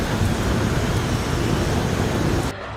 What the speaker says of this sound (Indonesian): dalam sekejap saja langit menjadi mendung dan angin kencang bertiup serta hujan lebat pun mulai turun